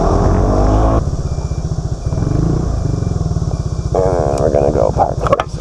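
A SYM 400cc big scooter engine runs close by with a steady, throbbing drone that shifts in pitch as the rider eases on and off the throttle, and its note rises and wavers toward the end.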